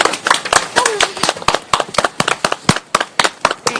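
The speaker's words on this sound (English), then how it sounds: "Round of applause from our audience, please." Audience at a community awards event applauding, a run of sharp, evenly spaced claps close to the microphone with light voices underneath.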